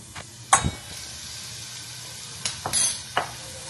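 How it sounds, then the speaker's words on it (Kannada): Onions frying in a pan give a soft, steady sizzle, with a few sharper hissing bursts and stirring clinks scattered through it. "ಈರುಳ್ಳಿ ಸ್ವಲ್ಪ ಕಲರ್ ಚೇಂಜ್ ಆಗೋವರೆಗೆ ಇದನ್ನ ಹುರ್ಕೊಳ್ಳೋಣ."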